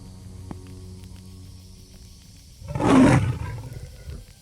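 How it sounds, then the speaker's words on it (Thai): A tiger roars in a forest at night: one deep, rough roar swells up loudly partway through and fades, over a low, steady ambient hum. "จู่ๆเสียงคำรามของเสือก็ดังแว่วมาจากตีนเขาดังก้องป่า"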